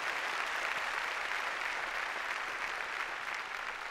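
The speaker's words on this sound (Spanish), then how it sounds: "dele fuerte el aplauso al Señor" A church congregation claps loudly for the Lord during a Sunday service, a dense, even burst of applause that holds steady for several seconds.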